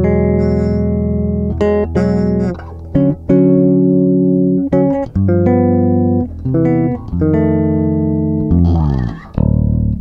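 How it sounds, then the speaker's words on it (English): A DJS Guitars Marilyn 5-string bass rings out with clear, sustained chords and plucked notes, woody and full, played alone with brief gaps between phrases. "Comes alive with chords, this bass."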